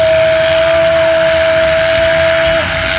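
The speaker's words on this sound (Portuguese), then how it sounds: "subiu o ronco dos motores" Loud, steady engine drone with a sustained high whine, heard close and continuous from start to finish at the start line of a VXF race in Sidrolândia.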